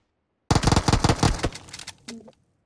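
A rapid burst of automatic gunfire in PUBG Mobile rattles off loud and close for about a second, then tails off into a few fading echoes and a short electronic beep.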